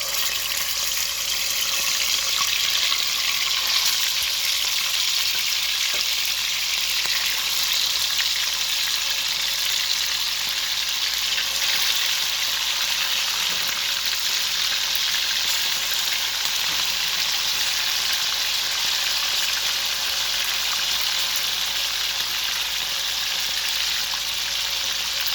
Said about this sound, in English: So now I'm gonna immerse them in the oil.